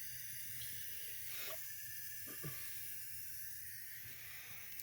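Short, quiet hissing bursts of WD-40 sprayed from an aerosol can sound close by, with a faint background hum and no speech.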